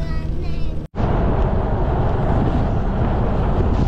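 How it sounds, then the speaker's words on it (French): Heavy, continuous wind roar in the countryside buffets the microphone after a brief cut, a dense low rumble that stays loud and steady throughout. "le vent il commence à se lever juste maintenant fort on dirait"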